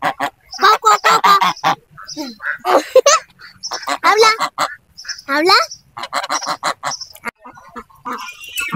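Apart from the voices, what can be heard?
ducks calling in a park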